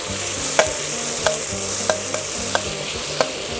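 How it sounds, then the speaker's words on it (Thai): Chillies sizzle steadily in hot oil while a utensil scrapes and stirs the pan in regular strokes, close by and loud. "ผัดพริกให้เหลืองก่อนนะคะ"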